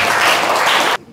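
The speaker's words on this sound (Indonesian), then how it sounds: "berikan tepuk tangan untuk jawabannya." A school class applauds a student's answer with a short, loud burst of dense clapping that cuts off abruptly after about a second.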